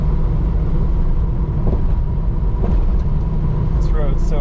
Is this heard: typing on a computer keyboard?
no